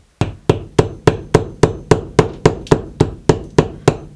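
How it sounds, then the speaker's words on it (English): Repeated sharp hammer strikes punching a hole while installing laundry room shelving, about fourteen evenly spaced blows, loud and close with a short ringing decay after each hit. "let's see if the punching of a hole is going to be enough"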